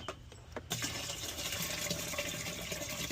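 Enzyme cleaner poured into a carpet cleaning solution, a sudden steady rush of liquid starting partway through and continuing loud and unbroken, close by.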